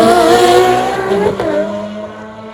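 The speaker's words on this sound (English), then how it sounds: "roaring away down the pit straight there" A race car roars past down the pit straight at a motorsport festival in Adelaide. The engine is loud and close, with a quick pitch shift as it passes, then it fades away.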